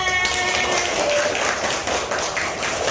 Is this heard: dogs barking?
no